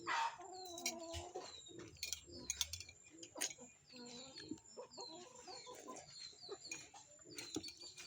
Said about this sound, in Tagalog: Oh, galit na galit yung pabo.